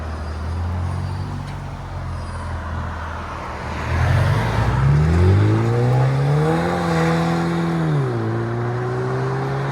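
A stage 1-2 tuned Mercedes CLA 250 with a 2.0L turbo, running E85 with a muffler delete, idles with a deep drone, then revs up loud and close. The revs hold high, dip, and settle back.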